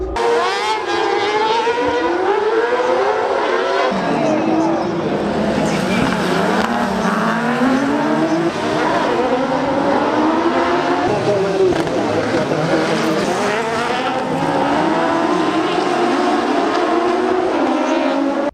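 Autocross cars turn sideways through a left-hand hairpin at the Nyirád Racing Center, with engines revving and wailing continuously for the whole stretch. Someone talks over the engines.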